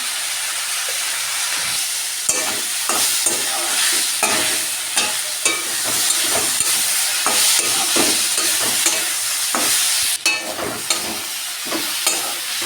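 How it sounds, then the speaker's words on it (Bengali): Tomato and cumin powder stir-fry in a hot pan for fish curry, a loud, dense sizzle with repeated scraping strokes of the spatula throughout, no voices. "টমেটোটা দিয়ে কিছুক্ষণ নাড়াচাড়া দিয়ে একটু কষাবো।"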